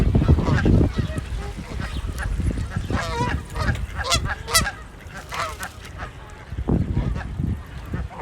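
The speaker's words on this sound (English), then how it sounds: "Somebody was feeding the ducks." Geese and ducks at a lake edge, where someone has left crumbs, honk and squawk in loud overlapping calls close by, with a few quieter gaps between bursts.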